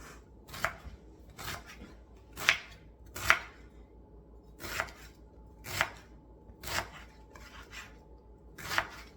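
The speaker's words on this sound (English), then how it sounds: "So the first thing I'm gonna do is chop this cabbage." Cabbage being chopped with a knife on a cutting board, about ten crisp, evenly spaced chops with no talking, close and moderately loud.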